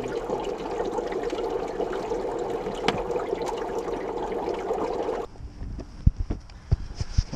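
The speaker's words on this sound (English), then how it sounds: "which is bubbling over as the dry ice itself goes from solid form back to gas form" Dry ice packed around a car bubbles and fizzes as it turns to gas, a dense continuous rushing gurgle that cuts off abruptly, leaving scattered quiet clicks and knocks.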